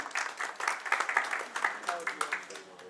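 A small group applauding at a tent dealers' welfare association executive meeting, with moderately loud, irregular claps close by that come in quick bursts across the whole stretch.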